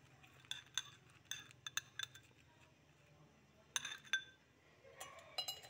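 Dried lemon slices placed into a glass for lemon ginger tea, a series of faint, close clinks and light taps against glass in small clusters over a quiet background.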